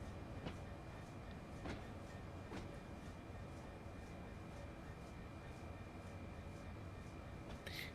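Train arriving at Gatwick station in the Train Sim World East Coastway route: a steady low rumble of running rolling stock with faint periodic clicks of wheels over rail joints, continuous and moderately loud.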